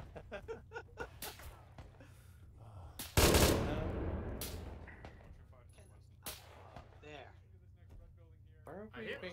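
ArmA 3 gunfire: scattered sharp cracks and short bursts, then one heavy, booming blast that slowly fades. Scattered shots follow, with voices speaking in between.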